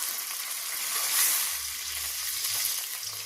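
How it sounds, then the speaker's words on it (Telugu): Water poured into a hot pan of tempering with curry leaves for wheat rava upma gives a steady, close sizzle and hiss that holds throughout, swelling briefly near the middle with a low bubbling underneath. "ఇప్పుడు వచ్చేసి 2 గ్లాసులు వాటర్ వేసిపోయాలండి."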